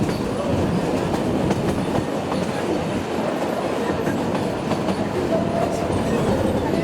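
A Puffing Billy Railway steam train rumbles steadily along the rails near Selby Station, Australia, a continuous loud roar with faint rhythmic clatter from the wheels throughout.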